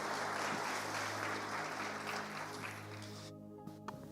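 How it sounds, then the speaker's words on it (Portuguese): An audience at a church service claps for the performing artists, a dense, steady wash of applause that fades out near the end with a few last claps. "Vamos aplaudir os artistas aqui."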